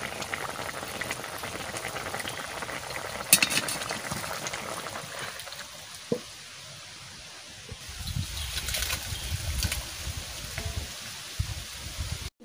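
Cumin seeds, bay leaves and split dried red chillies sizzle and crackle in hot frying oil, a steady close hiss with brief sharper spits as ingredients hit the pan.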